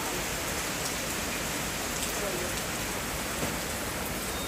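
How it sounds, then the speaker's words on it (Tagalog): Steady heavy rain pours down after two days of continuous downpour, a dense unbroken hiss with scattered drops close by, heard alone throughout. "Panahon dito ngayon, 2 araw na puro ulan."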